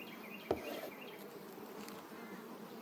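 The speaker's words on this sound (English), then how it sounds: "There's a lot of bees on that one. Hear the change?" Many honeybees crowd a hive frame during a honey harvest, making a dense, continuous close hum, with one sharp click early on.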